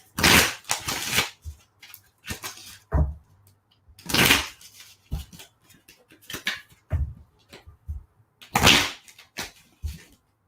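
Tarot cards are shuffled in several quick papery riffling bursts with short pauses between them, fairly close and clear, with no talking over them.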